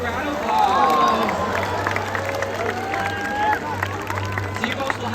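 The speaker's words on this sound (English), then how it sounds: "Let's give her a nice big round of applause." A large outdoor crowd applauds and cheers at a SeaWorld San Diego orca show. The clapping is steady and mid-distance, with a low hum and some thin whistle-like tones running underneath for about five seconds.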